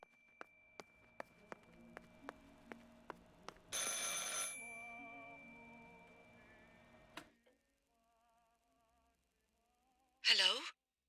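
An old-style telephone rings in the game Martha Is Dead, a series of evenly spaced bell rings up close, followed by a burst of noise, soft tones and a brief sigh-like breath at the end.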